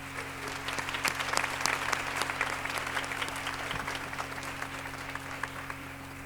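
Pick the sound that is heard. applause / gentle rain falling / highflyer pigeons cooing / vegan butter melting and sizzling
applause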